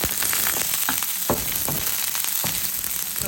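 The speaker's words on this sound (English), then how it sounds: "Put my onions in there." Onions frying in a pan give a steady, close sizzle broken by a handful of sharp clicks and scrapes as they are stirred.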